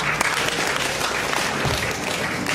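Applause from a student entrepreneurship workshop audience as a university participant is called to the front, a dense continuous wash of clapping at moderate loudness throughout, with a few voices mixed in.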